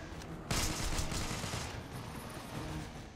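Enemy minigun fire in Devil's Third, a sustained, rattling burst of rapid shots that sets in sharply and continues for roughly three seconds with no talking.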